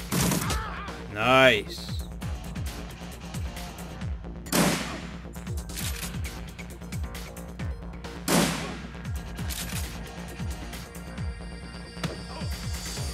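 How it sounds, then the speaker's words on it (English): Burst-fire gunshots in a video game come in rapid repeated clusters through the clip, with sharp swooshing effects at intervals and people talking over the shooting. "he's got burst fire"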